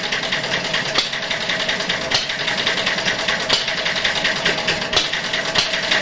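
A homemade one-valve engine with spark ignition runs steadily and loudly, its fast chugging firing rhythm continuous throughout with no talking.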